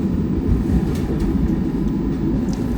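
Steady, loud low rumble of a moving train heard from inside the carriage during a ride through the Dovre mountains, continuous and even, with faint clicks now and then.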